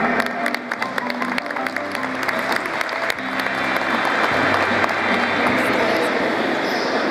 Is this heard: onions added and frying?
no